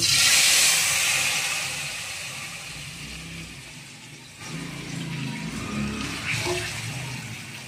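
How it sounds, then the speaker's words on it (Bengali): Rosha batter spattering into hot oil on a gas stove for Bengali-style roshar jhol, giving a loud, steady hiss that eases slightly midway and swells again toward the end. "তেলের উপরে যখন এই রসাটাকে দেওয়া হয় একটু ছিটে যাওয়ার ভয় থাকে"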